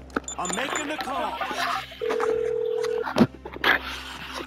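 Phone call being placed in Grand Theft Auto V, a steady electronic tone with short beeps heard under ongoing talk and game noise.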